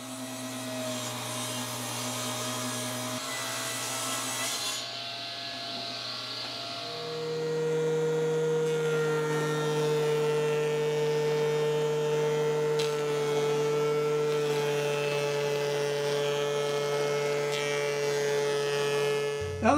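A wood planer runs while planing stock for a bathroom vanity face frame: a loud, steady electric motor drone with strong tonal hum that shifts to a higher, fuller pitch partway through and continues without speech.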